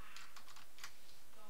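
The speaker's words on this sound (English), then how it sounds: "He's hitting his keys." Quick computer keyboard typing comes through in a short burst of light, fast key clicks, close and fairly faint, during a Minecraft game session.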